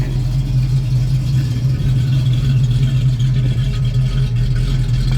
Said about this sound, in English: The dual exhaust has a great tone.